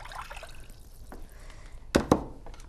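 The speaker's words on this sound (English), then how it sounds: "we're going to add these 2 cups of water" Two cups of water poured into a pan of pasta sauce on the stove, heard as a low background hiss and then two short, loud splashing gushes near the end.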